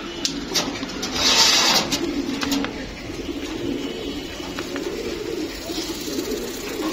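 Pigeon coos from an old-line Jabra blue-eye pair, a yellow-tagged male and female, repeating softly at close range amid a steady low hum, with brief brighter chirps rising early on.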